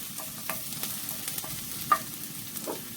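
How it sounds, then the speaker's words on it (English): Onions frying in a pan give a soft steady sizzle with light scrapes and clicks of stirring scattered through, and no one speaking. "onions I'm frying now."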